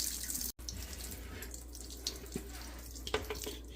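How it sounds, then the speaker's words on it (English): Water pours in a steady splashing stream through draining cured olives being rinsed, with a short gap early on and a few louder splashes near the end, close and without talking. "I'll dump a little bit of water through them as we've got this open"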